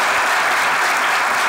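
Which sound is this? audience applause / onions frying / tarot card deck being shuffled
audience applause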